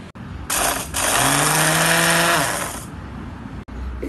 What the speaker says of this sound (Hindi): अब इन तमाम चीज़ों को अच्छे से कर लेंगे ग्राइंड।